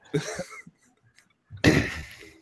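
Two close, harsh coughs separated by a short quiet gap, the second louder and rougher than the first.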